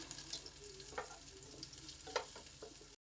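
Dried red chilies frying in a little oil with onion and bottle gourd, a soft continuous sizzle with a few faint stirring scrapes, quiet and close.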